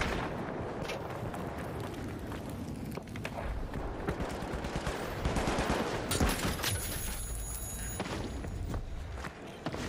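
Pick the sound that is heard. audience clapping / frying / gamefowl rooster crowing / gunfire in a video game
gunfire in a video game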